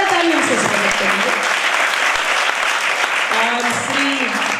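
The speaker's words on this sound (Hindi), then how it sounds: "जोरदार तालियों से स्वागत करेंगे" Audience at a school function clapping loudly to welcome a guest, dense continuous applause close by, with a voice speaking over it at the start and again near the end.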